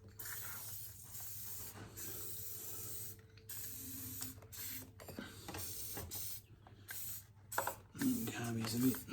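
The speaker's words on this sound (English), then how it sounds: "we just got to spray these boots a bit, otherwise my doubts whether they'll go on." Aerosol spray hissing onto rubber carburettor boots during a carb install on a Yamaha YZF1000 Thunderace, in short close bursts with pauses and workshop handling noise, louder at the end.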